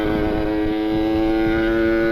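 A Kawasaki Ninja two-stroke motorcycle engine runs close by, loud and steady, with a rising buzzy rev and a strong harmonic drone the whole time.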